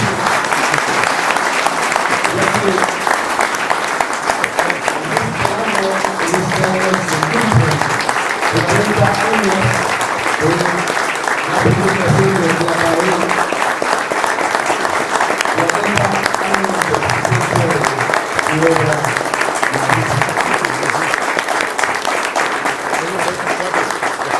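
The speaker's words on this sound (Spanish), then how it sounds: "solicitaría a todos los presentes ofrecer un fuerte aplauso al maestro Antonio Velasco" A large audience at a gathering applauds Antonio Velasco, a loud, steady roar of clapping that runs without a break for the full length, with a few voices mixed into the crowd.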